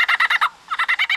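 A lyrebird mimics a kookaburra call: a rapid run of loud, close chuckling bursts, a short pause, then another quick burst series, heard alone.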